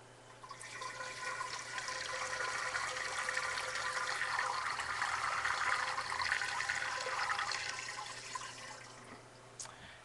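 Sugar water pours steadily into an Italian ice machine, a continuous splashing gush that builds and holds for several seconds before tapering off, with no talk.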